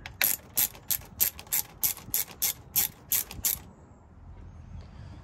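A hand ratchet on the 7mm bolts of a GP1800R watercraft supercharger gives a close, crisp burst of about eleven evenly spaced clicks, then stops and leaves a quiet background.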